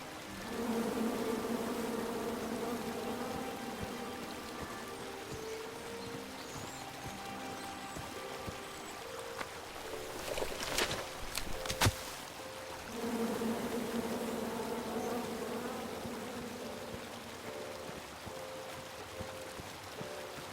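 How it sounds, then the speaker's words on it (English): Angry bees swarm from a chopped-down tree in the King's Quest video game, a steady droning buzz that runs throughout with a brief burst of sharper noise near the middle. "And then you chop down the tree full of angry bees?"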